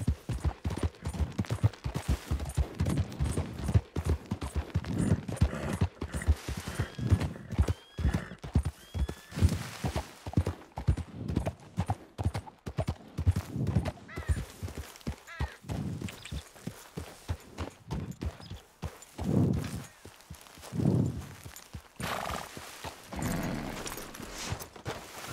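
A horse's hooves clip-clop steadily at a walk in the video game Red Dead Redemption 2, with rhythmic close thuds running the whole time and a brief voice near the end.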